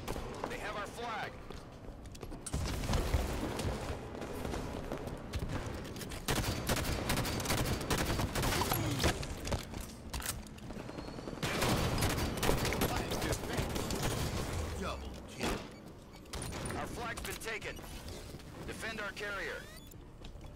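Enemy gunfire in a capture-the-flag match of a shooter game: bursts of rapid firing and impacts come and go over about twenty seconds, under frequent announcer-style voice callouts and game sounds.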